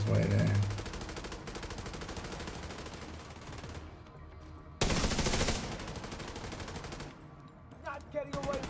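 An RPK light machine gun fires in long automatic bursts in The Division, loud and dense, with a sharper blast near the middle and scattered shots at the end.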